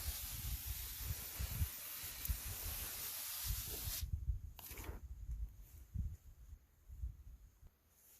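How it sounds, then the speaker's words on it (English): A hand sprayer mists the leaves of a young Lamb Hass avocado tree outdoors in Soquel, California, first as a continuous close hiss, then as a few short separate bursts over quiet rustling. "I finished spraying the top and the underside of the leaves"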